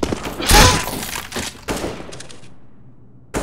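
Gunfire from Counter-Strike: Global Offensive, with a heavy burst of shots followed by a few sharper separated cracks and a final shot after a brief lull, all loud and close.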